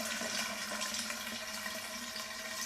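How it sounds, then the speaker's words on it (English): Water draining steadily through a shower pan liner during a flood test, a continuous close rushing, trickling wash with no pauses. "you can hear the water actually."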